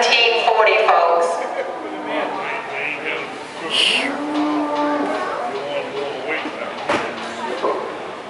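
Cattle at a livestock auction: a loud, drawn-out moo rises near the start and another lower bellow follows midway, with an auctioneer's voice talking over the sale and hall noise.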